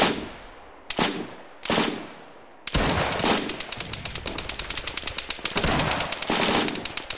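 Gunfire in the World War II video game Iron Front: a few single distant shots, then sustained rapid machine-gun bursts with sharp repeated cracks, loud and continuous, no talk.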